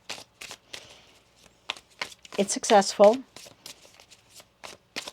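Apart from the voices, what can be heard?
tarot cards being shuffled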